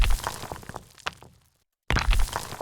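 A destructible stone wall in a 3D game breaks apart into stones and pebbles, with bursts of crumbling cracks and thuds that fade to silence, then a second burst of crashing rubble.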